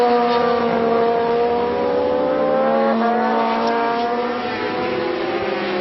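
750cc Supercup superbike motorcycles racing at Donington Park in 1992, a loud sustained high-revving engine wail with layered tones rising and falling as the bikes accelerate and shift, heard close and continuous.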